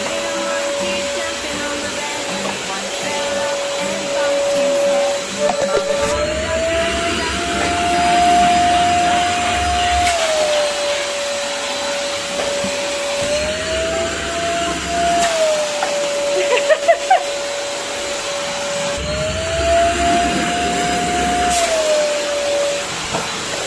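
A red electric vacuum cleaner runs continuously for over twenty seconds, a loud steady whine whose pitch rises and falls slightly as it sucks, with faint voices and small clatters underneath.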